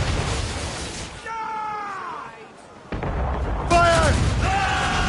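Ship cannons firing in the naval game Assassin's Creed Rogue: heavy booming blasts that start and end the stretch, with crew voices shouting commands amid the battle din.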